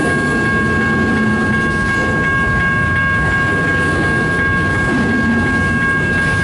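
Up close at a Richmond, Michigan crossing, a lengthy CN freight train keeps passing, its wheels clacking in a steady beat under a loud, unbroken roar, with a faint ringing crossing signal behind.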